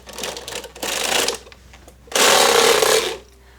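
A knitting machine carriage makes two loud mechanical passes while casting on yarn, each a rattling, clacking sweep lasting about a second, close and without speech.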